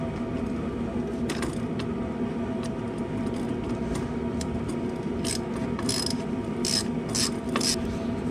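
A ratchet wrench clicks steadily while tightening 10mm bolts on a Nissan drum brake backing plate. The close, fast ticking comes in short bursts against a low background hum.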